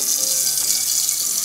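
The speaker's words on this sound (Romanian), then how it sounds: "așa că o să punem apa la fiert" Tap water running steadily into a pot being filled to boil for pasta in a home kitchen, a constant, close, bright hiss of flowing water with no talk.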